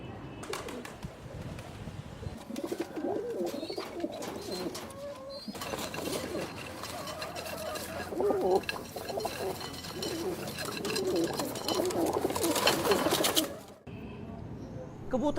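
Pigeons coo in soft, repeated low calls from a loft used for pigeon keeping, with a steady busy background and occasional brighter noise bursts, fairly close and continuous throughout.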